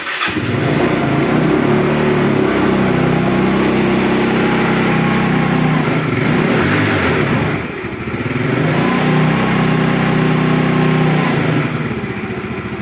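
A Yamaha Mio Smile motor scooter engine idles steadily and loudly up close, a continuous buzzing drone with a brief dip midway before settling back to the same even hum.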